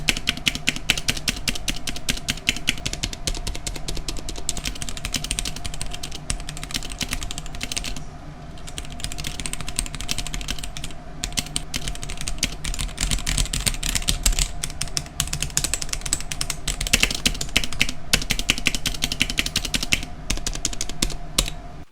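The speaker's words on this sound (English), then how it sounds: "here's a quick sound test of the keyboard all stock" Continuous rapid clacking of a stock GamaKay (Womier) K87 mechanical keyboard being typed on quickly, dense bursts of keystrokes with a short pause partway through.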